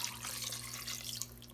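Water pouring from a jar into an Instant Pot over spaghetti noodles, a steady close splashing trickle that runs continuously and ends abruptly.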